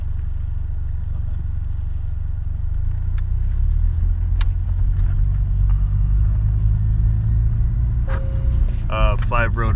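A rotary-engine car fitted with an aero pack cruises along, its steady low rumble filling the cabin throughout, with a brief voice rising near the end.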